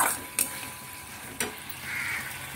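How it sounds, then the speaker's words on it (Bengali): Spice paste frying in a pan with splashes of water, a soft continuous sizzle broken by two sharp scraping stirs and a brief hiss as water hits the hot oil. "সামান্য জলের ছিটে ছিটে দিয়ে দিয়ে দিয়ে দিয়ে মশলাটাকে কষাতে থাকবেন"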